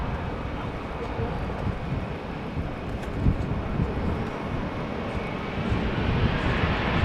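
A passenger jet lands at Amsterdam Schiphol Airport in wet, windy weather, its engine roar a steady broad rumble heard at a distance, mixed with gusty wind buffeting the microphone.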